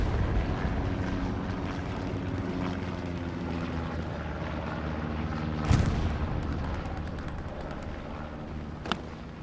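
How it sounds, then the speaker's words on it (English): Artillery in the World War II shooter Hell Let Loose: a steady low aircraft-like drone with distant rumbling, broken by one sharp, loud shell impact midway and a smaller crack near the end. "Artillery falling by Pizza Slice."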